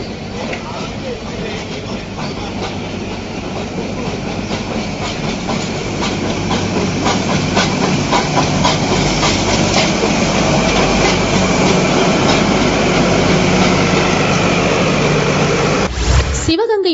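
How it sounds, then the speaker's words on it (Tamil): A mountain train rumbles steadily along the rails with rhythmic clickety-clack, growing slightly louder partway through, with a voice speaking over it. "எந்த பாதிப்பும் இன்றி மலை ரயில் இயக்கப்படுவதாக"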